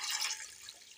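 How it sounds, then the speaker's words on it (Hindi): Water poured into a pressure cooker holding garlic for chicken yakhni broth, a short, faint, hissing splash that tapers off within a second, with no talking. "इसमें डालेंगे पानी"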